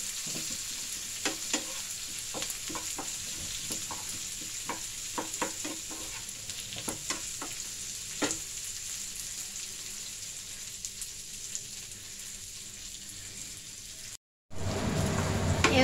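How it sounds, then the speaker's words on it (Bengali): Two small chopped onions fry lightly in a pan for a bhetki fish-bone chorchori, with a steady soft sizzle and scattered sharp stirring clicks, close and continuous; a short gap near the end breaks into louder noise. "পেঁয়াজটা একটু ভাজা হবে হালকা"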